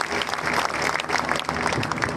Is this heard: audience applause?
yes